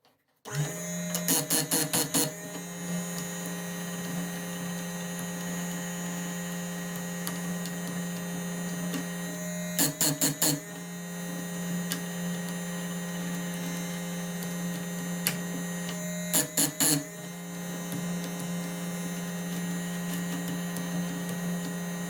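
A Parkside PSG 85 B2 chain sharpener motor runs with a steady electric hum, interrupted three times by brief, bright grinding bursts as the wheel meets the chain teeth.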